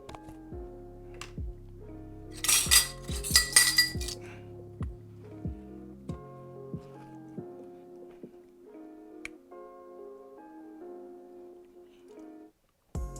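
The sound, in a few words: scooping food out of the Instant Pot with a utensil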